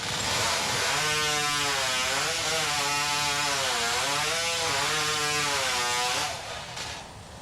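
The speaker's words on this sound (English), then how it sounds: "the hot saw is a thrilling end to the competition" A hot saw tears through timber at a Stihl Timbersports competition in New Zealand, its loud high-revving engine wailing in repeated rising and falling surges for about six seconds before cutting off, with crowd noise behind.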